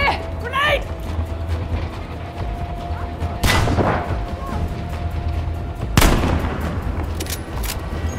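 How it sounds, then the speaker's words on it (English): A grenade in the Battlefield V multiplayer shooter goes off with a loud, booming burst, and a second blast follows a few seconds later. Constant battlefield noise and gunfire continue underneath, and players talk over the action. "Here, grenade!"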